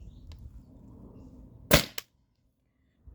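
Stock Tippmann TPX paintball pistol fired on CO2 from a 20 oz tank through a remote line, shooting kinetic balls: one sharp, loud pop with a fainter second crack just after, then silence.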